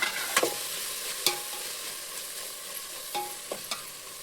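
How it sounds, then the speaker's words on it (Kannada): Fenugreek leaves, mint, coriander and kasuri methi fry in oil in a pan for homemade chicken biryani, giving a steady close sizzle broken by a few sharp stirring scrapes, with no talking. "ಇದು ಎಣ್ಣೆಯಲ್ಲಿ ಚೆನ್ನಾಗಿ ಫ್ರೈ ಆಯಿತು"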